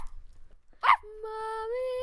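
A dog gives a single sharp yelp, followed by a drawn-out, steady whining tone, heard close and fairly quiet in an otherwise still indoor space.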